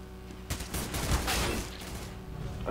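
AK rifle firing in the game CS:GO, a burst of rapid automatic shots starting abruptly and rattling on for about a second and a half, followed by a trailing clatter and a final sharp report.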